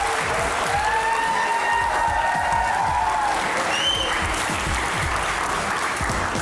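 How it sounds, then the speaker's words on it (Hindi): Studio audience applause on a talk show as guests are welcomed, a steady even wash of clapping throughout, with a faint musical tone briefly in the background. "तालियां बजती रहनी चाहिए।"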